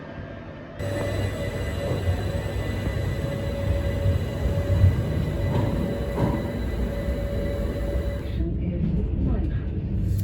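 A steady low rumble and hum fill the inside of a moving c2c Class 357 electric train leaving Fenchurch Street, with a faint whine running throughout and voices talking over it.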